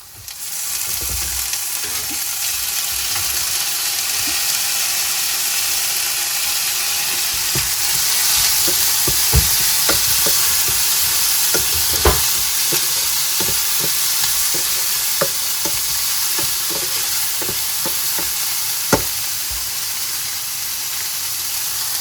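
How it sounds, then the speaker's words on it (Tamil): Onions and tomatoes sautéing in a pan for a squid curry, with a steady close sizzle and hiss throughout and repeated sharp clicks and scrapes of a spoon stirring against the pan. "அந்த கனவாயை நான் வந்து இதுக்குள்ள வந்து தக்காளி பழத்தையும் போட்டு வதக்க போகிறேன்"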